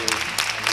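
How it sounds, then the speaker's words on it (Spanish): Applause from a small audience at a live Spanish community broadcast, a brief burst of clapping mixed with voices. "Vamos a dar un fuerte aplauso en primer lugar a Rafa."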